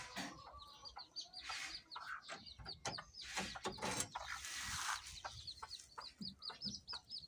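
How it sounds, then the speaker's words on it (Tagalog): A purebred labuyo Philippine jungle fowl hen clucks close by while her chicks peep in quick high runs, with rustling and scratching in between and no talking. "pakita ko sa inyo mga ludi ang magagandang sisiw na purong labuyo ni Lambing."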